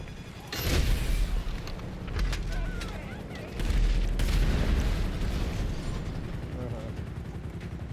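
Rocket launcher fire in a video game: heavy booming blasts with a rumbling explosive tail, followed by continuous noisy game action.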